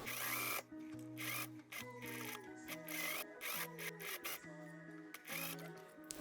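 A sewing machine stitches the side seams of a cropped jacket in short bursts, its rapid whirring motor stopping and restarting several times, close and fairly quiet with no talking.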